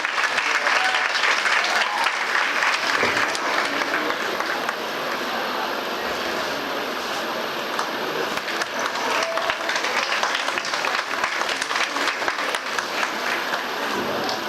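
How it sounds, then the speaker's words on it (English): Sustained audience applause at an international conference session, dense steady clapping for a poster presentation award, loud and continuous throughout. "Please, a round of applause, please."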